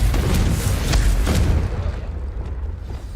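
A Confringo fire spell bursting in the Hogwarts Legacy video game, a loud booming explosion with crackling debris that rumbles and then fades away over a few seconds.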